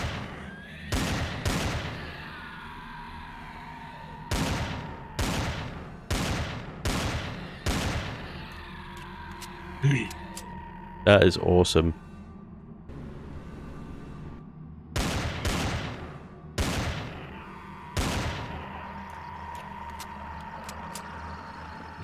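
Pistol gunfire in Empyrion Galactic Survival, a run of loud, sharp, evenly spaced single shots with short decaying tails and a few pauses between them, plus a brief spoken remark.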